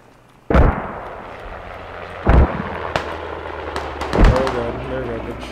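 Mortar rounds land in the game Squad as three heavy, booming impacts spaced about two seconds apart, each with a rumbling tail, with a few sharper pops between them under quiet background.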